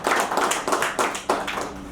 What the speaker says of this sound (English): I think let's give a big hand of applause.